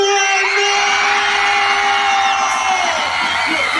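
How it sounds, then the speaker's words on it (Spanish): A crowd of girls screams continuously at a freestyle rap battle event, a loud sustained high-pitched roar of shrieks and cheers filling the whole stretch. "Las chavitas como gritan"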